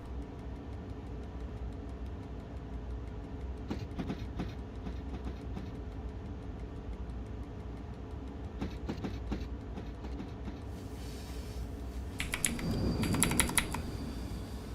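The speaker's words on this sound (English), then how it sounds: "the train is sitting there" Train running in the TD2 rail simulator game, a steady low rumble with rhythmic clacking bursts and a louder swell near the end, no talking.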